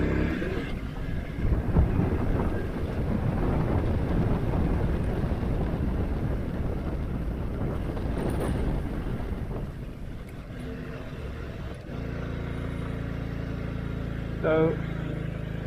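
A Honda Cub motorbike rides up a side road near a temple in northern Thailand, its small engine droning steadily with wind rush over the microphone, easing off briefly near the end.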